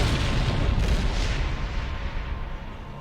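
A fusion reactor explodes aboard the Trigati ship in Babylon 5, a loud, dense blast of roaring rumble that stays sustained for a few seconds, then slowly fades with no voices over it.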